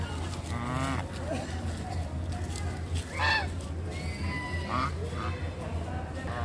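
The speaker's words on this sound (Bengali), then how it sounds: "যেখানে বেশ কিছু সাদা সাদা হাঁস খেলা করে বেড়াচ্ছিল।" White ducks on a pond at the Adyapith temple in Dakshineswar give scattered, nasal quacks and honks, some near and some farther off, over a constant low outdoor hum.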